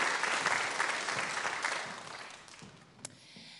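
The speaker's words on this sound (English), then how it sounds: "I'd like to give you another round of applause." A school audience at a junior prize-giving ceremony fills the room with warm, steady applause that gradually fades, ending with a single sharp clap or knock.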